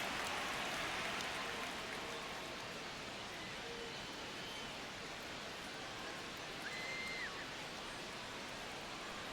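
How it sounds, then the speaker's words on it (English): Steady rain falls outside an open window on a windy day, a dense even hiss that holds at moderate level throughout with no voices. "I think it's raining here, too."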